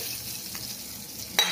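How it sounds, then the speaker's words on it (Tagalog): Garlic and onion frying together in a pan of oil for fried rice, a soft continuous sizzle with light stirring scrapes, ending in a sharper burst of hiss. "Tapos lagyan na natin yung bawang sa sibuyas."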